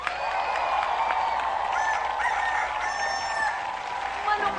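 A rooster crows against a noisy studio audience backdrop, the crow rising briefly over the crowd noise and murmur at moderate volume.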